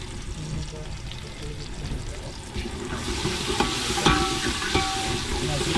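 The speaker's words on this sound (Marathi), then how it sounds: "आता आपण टमाटर टाकणार आहोत टमाटर सुद्धा आपल्याला तेलामध्ये शिजून घ्यायचे" Tomatoes cook in oil in a pan aboard a fishing boat at sea, a continuous sizzle and frying hiss that grows brighter partway through, with a few stirring clinks and a steady low background rumble.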